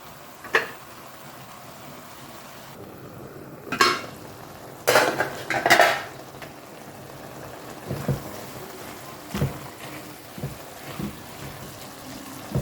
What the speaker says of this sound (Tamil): கிளறி மூடி வச்சுருங்க நல்லா வெந்து வரட்டும்